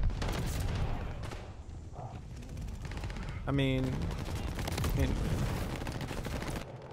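Sten submachine gun firing in the video game Call of Duty Vanguard, with sustained rapid automatic bursts over a busy battle mix and a brief spoken remark.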